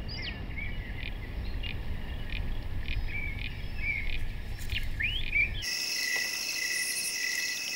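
Rosella parrots in an Australian forest give bright, quick whistled chirps over a dense, steady chorus of crickets, and a high insect buzz takes over near the end.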